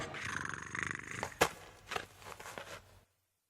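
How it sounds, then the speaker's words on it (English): A cat's low growling purr rises from inside a well, echoing faintly with a few sharper yowl-like bursts before cutting to silence. "Yeah, the cat. That sound from inside the well."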